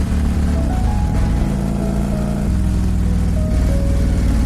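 A motorcycle engine runs loud and close throughout, its steady drone shifting pitch as the bike pulls away and gathers speed, with no talking over it.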